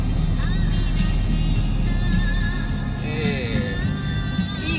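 A heavily loaded large truck with a 13,000 cc, 410 hp engine, about 24 tonnes gross, accelerating on an expressway, giving a steady, deep, loud rumble that fills the low end from within the cab.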